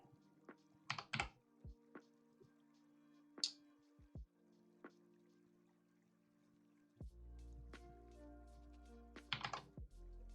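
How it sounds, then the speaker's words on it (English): Computer keyboard typing in irregular bursts of quick clicks, near and quiet, with pauses between keystroke runs and a faint trickling background near the end. "I'm going to stop typing."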